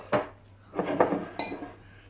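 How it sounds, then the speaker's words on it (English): Apple mix for a large apple crumble spooned into a baking dish, giving a few close clunks and clatters of utensil against dish, the sharpest toward the end. "So put your apple mix into your receptacle."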